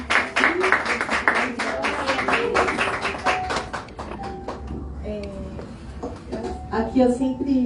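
A church congregation at a women's worship service claps vigorously for several seconds, then the clapping fades and a voice speaks over the room.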